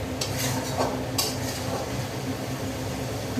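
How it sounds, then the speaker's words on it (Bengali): Spice masala being stirred and fried in a pan for mutton curry, a continuous sizzle with spoon scrapes and light clinks against the pot, nobody speaking. "মশলাটা কষিয়ে এসেছে"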